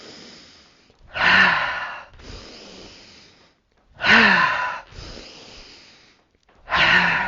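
During a qi gong exercise, slow, deep breaths come close and clear, with three strong inhalations each followed by a longer, softer exhalation in an even rhythm.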